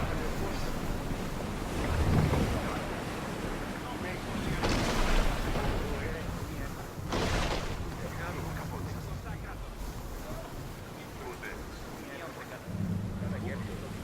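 A sailing ship at sea in Assassin's Creed Odyssey, steady wind and rushing water with waves sloshing against the hull, occasional stronger gusts and swells, and brief voices heard over the ocean ambience.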